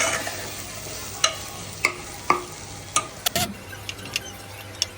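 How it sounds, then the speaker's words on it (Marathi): Malvani masala paste fries in oil for mutton, a steady low sizzle broken by sharp spoon scrapes and taps against the pan as it is stirred, close up with no talk. "फ्राय करणार आहोत जवळजवळ त्याला त्या पेस्टला आता तेल सुटलं आहे"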